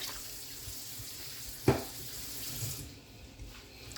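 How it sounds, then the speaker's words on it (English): A kitchen tap runs water into a cooking pot for Jamaican-style steamed fish and turn cornmeal, a steady, fairly quiet hiss of flowing water with a brief clunk partway through. "I think I'm gonna add a little bit more water."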